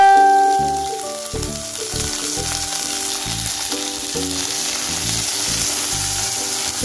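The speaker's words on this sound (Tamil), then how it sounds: "இது நல்லா வதக்கலாம்." Apakova leaves sauteing in hot oil with onion and tamarind for chutney, a loud steady sizzle with stirring clatter running throughout.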